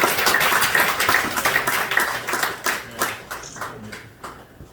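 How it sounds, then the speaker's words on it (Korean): Church congregation applauding during an ordination service for elders, ordained deacons and deaconesses: dense, steady clapping from many hands that thins and fades over the final second. "우리 큰 박수 드리겠습니다."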